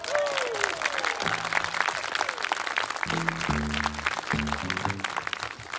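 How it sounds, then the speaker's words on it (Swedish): Audience applause for a band at a small venue show in Lummelunda, a steady wash of clapping under faint music with low organ-like tones joining near the end. "Så jag tycker bara det förtjänar en applåd."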